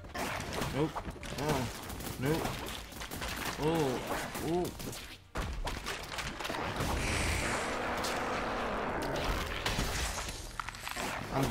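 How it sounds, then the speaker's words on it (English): Video game bomb explosions, a dense rapid barrage of booming blasts and crackling impacts that grows into a sustained roar, with talking over the first half. "Oh, you're throwing bombs at me."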